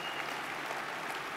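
Audience applause, a steady dense wash of many hands clapping, sustained and fairly loud throughout the brief moment.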